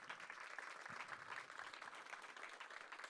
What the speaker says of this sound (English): I want to give him a big round of applause